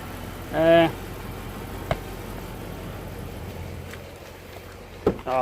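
A Chrysler SRT8 with an engine-light fault idles at a low, steady rumble beneath a brief human vocal sound near the start and a few clicks and knocks, with the engine quieting slightly later on.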